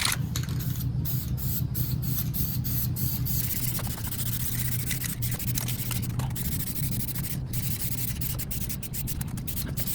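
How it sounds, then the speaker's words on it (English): Aerosol spray can laying black paint onto the front bumper of a 2004 Ford F150 FX4, a steady close hiss running throughout with short breaks between passes and no talking. "With this can, it's starting to spritz a little bit."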